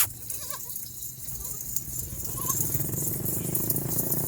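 Goats and kids of the Nagii breed at a livestock sale give a few short, wavering bleats early on, partly buried under steady outdoor noise and background chatter.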